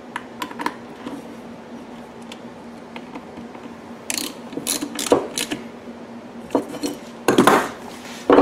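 A ratchet tightens 7mm bolts on a Predator 3500 generator during a fuel kit install, quick bursts of clicking pawl strokes over a steady low hum, with metallic clinks of tools in between.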